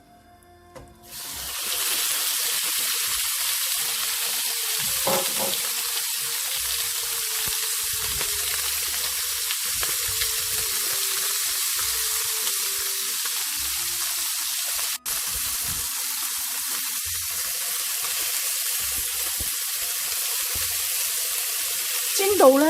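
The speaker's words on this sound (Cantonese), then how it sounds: "煎一煎呢個雞翼" Chicken wings pan-fry skin-side down for soy sauce chicken, a steady close sizzle and hiss running throughout with brief soft clinks of cookware.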